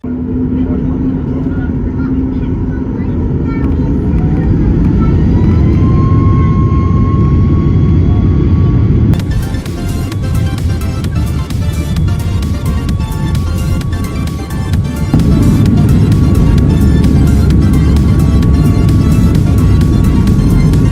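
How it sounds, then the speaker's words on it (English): A Boeing 737 airliner loaded with passengers and fuel for a five-hour flight rolls for takeoff at night in Cyprus, a loud continuous jet engine roar with a rising whine that swells and fills the whole stretch. "And that takeoff roll was well over a minute long, guys. The 737 was loaded with passengers and fuel for a 5-hour flight"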